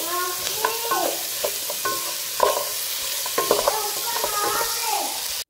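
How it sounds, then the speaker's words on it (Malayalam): Ingredients for chicken curry being sautéed with a little salt, a steady sizzle close by with repeated scraping strokes of a spoon across the pan and no talk. "കുറച്ച് ഉപ്പിട്ട് കൊടുത്താൽ പെട്ടെന്ന് തന്നെ വാടി വരും"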